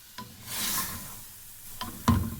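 A spoon scrapes and stirs beef karahi with yogurt through masala in a pan, giving soft, intermittent rubbing strokes with faint sizzling and a louder scrape at the end, quiet and close, with no talking.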